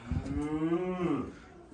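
A pregnant heifer gives a single close, drawn-out moo that rises and fades over a second and a half, heard alone with no talking.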